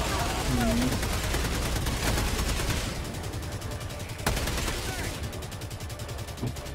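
Rapid video-game gunfire from enemy weapons, a dense stream of close, crackling shots that rattles on before thinning out, with a few sharp separate bangs near the end.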